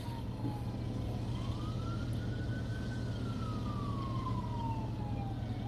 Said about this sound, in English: There's an ambulance rolling past.